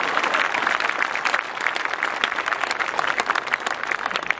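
Dense, steady applause from a live audience at a Hindi kavi sammelan poetry event fills the whole stretch, loud and continuous with rapid overlapping claps and no talk over it.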